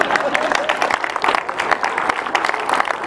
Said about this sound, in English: What a poor hand clap.